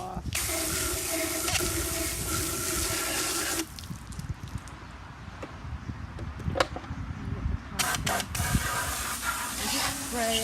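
Steady hissing spray of water on Shark vacuum cleaner parts, close and loud, stops briefly, then resumes in short bursts with clattering handling noises between.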